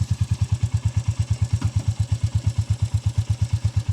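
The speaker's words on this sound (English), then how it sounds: "I will just start the engine." A Royal Enfield Meteor 350 motorcycle engine running at idle after starting, a steady low thumping single-cylinder pulse close by, with a brief clatter partway through and no talk.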